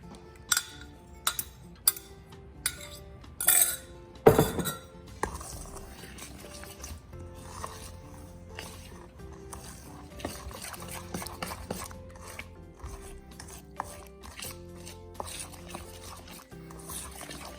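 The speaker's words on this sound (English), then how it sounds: "stir this until it's all wetted out" Milk is stirred into southern cornbread batter in a bowl, giving soft wet scraping and clinking of a spoon against the bowl, faint and steady with a few sharper knocks early on.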